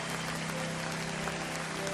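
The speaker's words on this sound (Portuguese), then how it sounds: "Você pode aplaudir ao Senhor." Congregation at a Portuguese-language church service applauding, a continuous even roar of clapping with sustained tones, probably music, beneath it, steady and moderately loud throughout.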